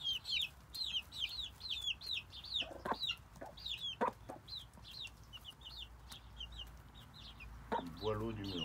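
Hens eating melon cluck in repeated short calls at close range. A voice speaks briefly partway through and again near the end.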